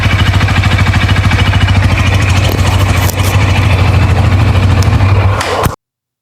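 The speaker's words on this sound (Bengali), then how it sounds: "এটার ইঞ্জিন সাউন্ডটা শুনুন।" Close, loud idle of a Bajaj N160 motorcycle engine, a steady rapid thudding pulse with a little mechanical clatter, running for several seconds before cutting off abruptly.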